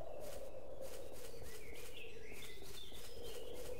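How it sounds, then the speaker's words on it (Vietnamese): Bird chirps and tweets with insect-like buzzing in the Noria area of the Mu Online game, a steady ambient loop with high, repeated calls over a faint hum, no talking. "bắt đầu nghe tiếng chim hót ong bay rồi"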